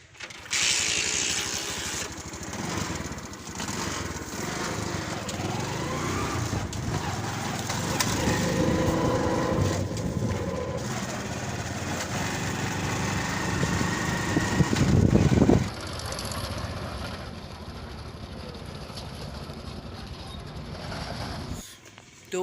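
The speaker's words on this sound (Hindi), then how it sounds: "बाइक पे चलते हैं" A motorbike ridden along a street to a shop, its engine droning steadily and fairly close for most of the ride with wind and traffic noise mixed in, then dropping away near the end.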